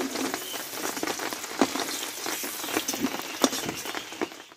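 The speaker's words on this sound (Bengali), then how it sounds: "আর এদিকে কিন্তু বৃষ্টি এসছে।" Steady rain patters and splashes on a surface, with dense crackling drops and a few louder splats throughout, no voices.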